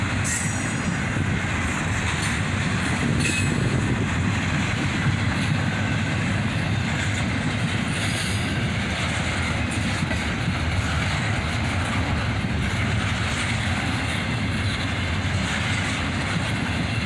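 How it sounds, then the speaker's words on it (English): A CSX double-stack intermodal freight train rolls past on a gloomy winter day, led by an ES44AC and an AC44CW locomotive built in 1996, with distributed power. A loud, unbroken rumble of wheels and cars fills the whole stretch, with faint squeals. "An intermodal train, led by an ES44 ACH and a YN2 AC44CW built in 1996."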